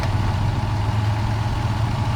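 A Toyota engine idles steadily with the AC on full high after a compressor retrofit, a constant low hum with no voices throughout.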